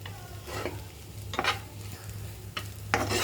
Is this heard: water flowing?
no